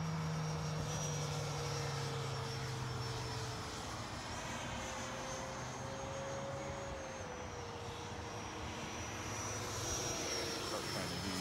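An FMS F/A-18 radio-controlled model jet flying at an RC field, its electric ducted-fan motor giving a steady whine with a slowly shifting pitch, heard at a moderate distance throughout.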